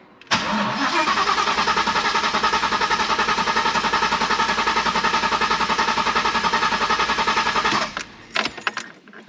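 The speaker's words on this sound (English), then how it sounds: "I'm gonna fire up the car with whatever's left." A twin-turbo Coyote V8 car with an upgraded Volvo fuel pump cranks on the last of its fuel in a long, even, rapid chugging rhythm for about seven seconds, then stops, leaving a few faint clicks.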